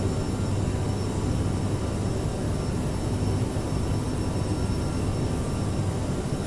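Aerosoft CRJ-700 regional jet climbing out over a city in Microsoft Flight Simulator, a steady, loud broadband engine roar with a thin high whine, unchanging throughout with no voices.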